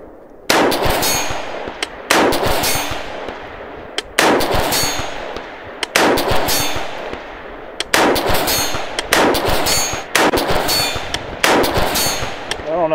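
Rifle shots fired at steel targets on a range, in a quick series of seven loud cracks spaced about two seconds apart, each followed by a ringing metallic clang and a short decay, with no talking.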